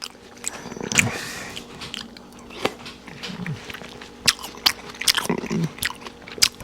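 Close bites and wet, crunchy chewing of watermelon come in irregular bursts, with juicy crunches and small smacking sounds between short pauses.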